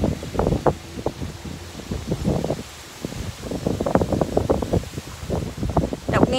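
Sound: cold wind blowing

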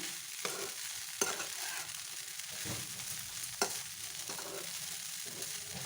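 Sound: stirring flattened rice (poha) in a pan

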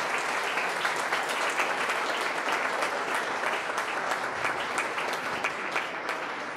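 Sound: applause for a lecturer

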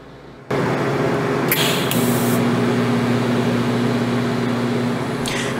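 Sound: TIG welding a pipe T-joint with manual pulsing

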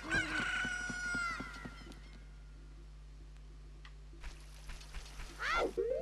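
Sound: chicken crowing in video game Ocarina of Time

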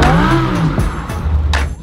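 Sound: Lamborghini car engine revving

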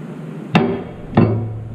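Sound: hammer striking near semi truck tie rod end

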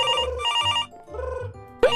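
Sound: telephone ringing in Minecraft family roleplay

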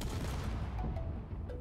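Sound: hydrogen tank explosion in video game Space Engineers

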